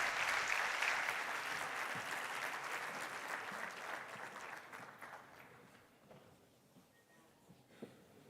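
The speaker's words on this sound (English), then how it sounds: "may I ask the attendees to give them a big round of applause" Conference attendees applaud panelists at the close of a plenary session, dense clapping that gradually fades and thins out over several seconds into scattered claps and room noise.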